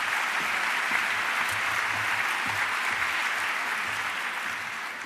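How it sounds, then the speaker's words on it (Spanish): An audience at the Naukas 2017 science talks applauds a speaker taking the stage, a dense, steady wash of clapping from a large crowd that holds for several seconds before easing slightly. "Un aplauso para ella."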